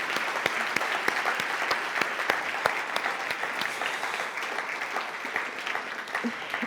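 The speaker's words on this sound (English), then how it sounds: "Can I have an applause for her?" An audience at a community convention applauds steadily, with dense overlapping claps holding an even level throughout and no voices on top.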